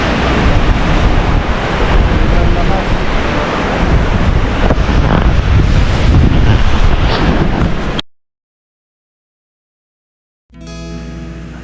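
Strong typhoon wind and heavy rain roar loudly and continuously as a dense, buffeting wash with microphone wind noise, then cut to silence before a brief return.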